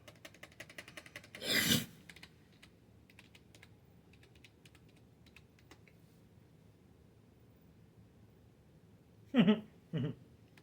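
A computer keyboard is typed on while a password is entered during a PC install and setup, heard as a short burst of clicks near the start and two quick bursts near the end, with a quiet gap in between.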